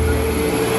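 Steady, loud drone of jet engines inside an airliner cabin on a flight to Lebanon, a constant broadband roar with no talk.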